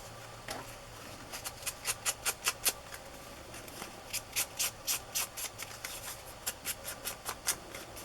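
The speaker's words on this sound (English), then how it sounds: "I'm gonna kind of run my fingernail along the edge there so I know where to cut that off." A fingernail is drawn repeatedly along the edge of paper in a crafting journal, producing about twenty soft, scratchy rubbing strokes in a steady rhythm, close up with no talking.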